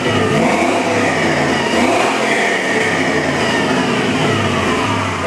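A 2000 Chevy 4.8 LS engine with 149K miles runs steadily at idle on a stand, giving a loud, continuous, even drone with no one talking over it.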